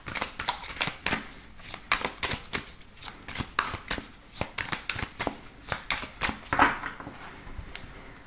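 Tarot cards being shuffled by hand, a rapid series of crisp riffling and slapping bursts, close and fairly quiet, repeating in an even rhythm throughout.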